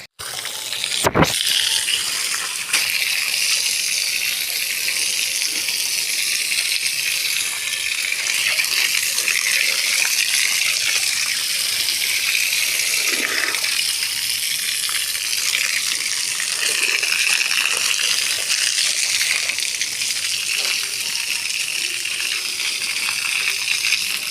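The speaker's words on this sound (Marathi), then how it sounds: "तर चला मग आता आपण फटाफट बोर चालू करून पाणी मारू." Water from a borewell pump sprays onto a house under construction, a steady loud gushing hiss that runs nearly unbroken after a brief sharp knock at the start.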